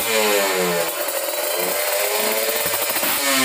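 A small two-stroke motorcycle engine with a half-open power-jet carburetor and an open air filter revs steadily and loudly, a buzzing, rasping drone that rises and falls slightly across a few seconds with no talk.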